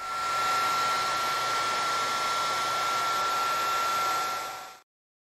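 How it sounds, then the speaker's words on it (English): A handheld router fitted with a quarter-inch roundover bit runs loud and steady with a whining high-pitched tone for several seconds as it rounds a coffee table edge, then cuts off abruptly into silence. "Using a quarter inch radius roundover bit in the handheld router, now I can go ahead and round over the top and bottom faces of the outside edge."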